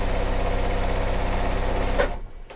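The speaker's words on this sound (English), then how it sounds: "we will sew these together" A sewing machine stitching quilt pieces together runs in a steady, loud, close mechanical whir, then stops abruptly near the end, leaving near silence.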